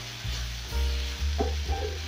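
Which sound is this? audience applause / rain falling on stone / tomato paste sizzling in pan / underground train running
tomato paste sizzling in pan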